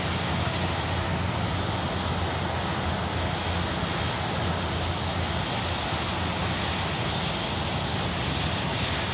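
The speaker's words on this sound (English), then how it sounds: "The Link Airways Saab 340 now departing to Canberra on behalf of Virgin Australia" A Link Airways Saab 340 turboprop airliner departs from Sydney airport. Its engines make a loud, steady roar that holds without a break, with no talking over it.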